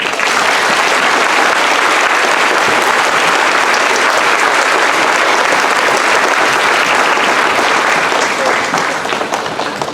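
A school assembly audience applauds visiting speakers at a Veterans Day program, a loud, dense wash of many hands clapping continuously and evenly throughout.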